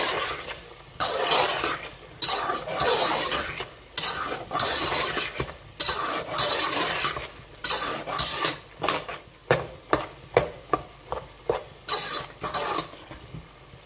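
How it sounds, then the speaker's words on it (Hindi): Spices and a bay leaf are roasted in a pan, with a spoon scraping and stirring in irregular strokes, then a run of quick rhythmic scrapes, over a faint sizzle close by. "अब इसे 2-4 मिनट के लिए मैं मसाले को भूनूंगी।"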